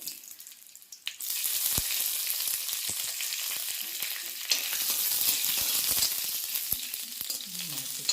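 Dried red chillies and curry leaves crackle and sizzle in hot oil, a dense steady hiss that starts abruptly after a quieter second and runs on loud and close, dotted with sharp pops.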